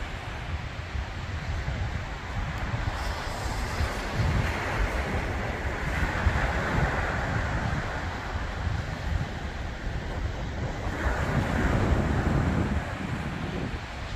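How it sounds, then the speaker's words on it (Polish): Sea waves keep crashing against a lighthouse in a continuous roaring surf, with heavy wind buffeting the microphone and swells rising and falling throughout. "Te fale się ciągle rozbijają o tą latarnię."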